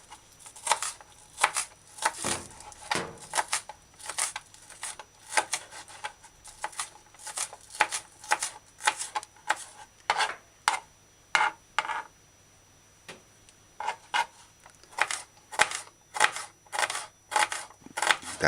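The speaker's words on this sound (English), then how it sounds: "Dice the scallion." Knife dicing scallion on a cutting board for cabbage stew, a run of quick, sharp chopping taps in bursts with short pauses, close and fairly loud, no talking.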